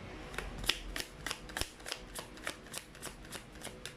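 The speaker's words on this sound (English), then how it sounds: "let me actually try to shuffle the cards real quick" A deck of tarot cards being shuffled up close, a quiet series of crisp riffling flicks and taps in an uneven rhythm.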